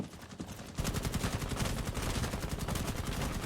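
Rapid automatic AK rifle fire in a competitive first-person shooter video game match. After a brief quieter moment, a loud, continuous burst of closely spaced shots starts abruptly and runs to the end.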